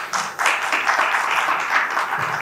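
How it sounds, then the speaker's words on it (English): A university audience breaks into sustained, dense applause during a State of the University address, many hands clapping steadily in a large hall. "Hold that applause for a minute."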